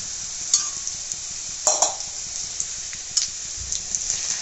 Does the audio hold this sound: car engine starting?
no